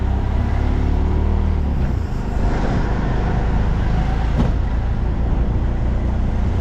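Steady low traffic rumble across the Somnath temple parking area, where many cars idle and move in a continuous broadband drone with no distinct passes and no talk.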